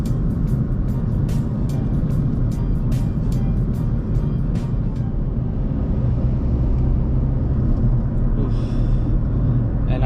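Mercedes-Benz A250 Sport AMG with automatic gearbox on a test drive, steady loud road rumble and engine drone from inside the cabin, with tire noise and a few brief clicks throughout.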